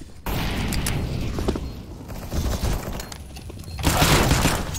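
Incendiary grenade in a shooter video game, bursting into a loud crackling, hissing roar of flames that swells near the end amid gunfire and game noise.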